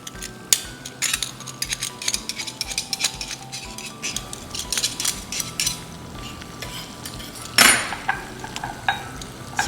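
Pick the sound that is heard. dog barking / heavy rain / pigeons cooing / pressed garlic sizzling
pressed garlic sizzling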